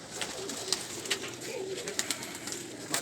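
Soft pigeon coos repeat close by, low and throaty, with occasional sharp taps and rustles in the background.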